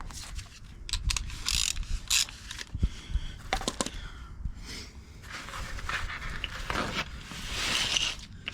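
A ratchet with a 17mm socket works the wheel hub bolts on a Vauxhall Corsa VXR, giving repeated close bursts of ratcheting clicks mixed with metallic clanks and handling noise.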